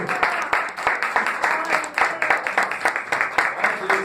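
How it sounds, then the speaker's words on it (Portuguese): A church congregation claps in praise during a worship service, rhythmic hand clapping in a steady, fairly loud pulse that carries on throughout, with voices mixed in underneath. "Dê uma salva de palmas para o Espírito Santo do Senhor"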